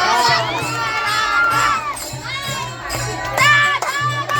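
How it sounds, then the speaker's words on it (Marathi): A crowd of children at a traditional Dahi Handi festival in a Konkan village shouts loudly and continuously, voices overlapping in a steady, energetic roar with occasional higher whoops rising above. "जोरात ओरडा जोरात"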